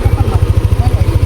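Motorcycle engine running close by, a loud, rapid, even low throb pulsing steadily throughout the brief moment.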